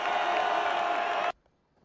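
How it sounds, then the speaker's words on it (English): A football stadium crowd roars in a loud, dense, continuous wall of cheering that cuts off abruptly into near silence after about a second and a quarter. "In all of football, there's nothing quite as exciting as the roar of the crowd."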